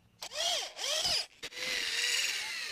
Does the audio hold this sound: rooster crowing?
no